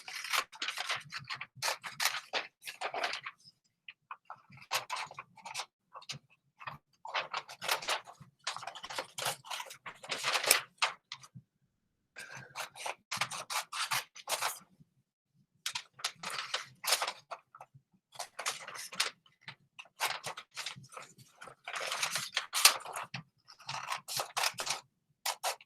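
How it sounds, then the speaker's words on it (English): Scissors snipping around a paper trapezoid shape cut out by hand, with repeated bursts of crisp cutting strokes separated by short pauses, close and fairly quiet, with no talking. "So what we're going to do is we're first going to cut out our shape."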